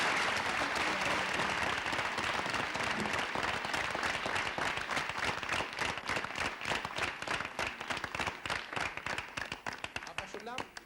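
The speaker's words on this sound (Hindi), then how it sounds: "तालियां जोरों से" A studio audience claps loudly after a correct quiz answer, the sound thinning into scattered individual claps toward the end, with faint voices mixed in.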